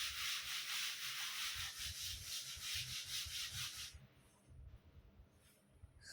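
A board is rubbed clean with steady back-and-forth strokes, a dry scraping hiss that repeats rhythmically for about four seconds before giving way to a few softer, scattered rubs.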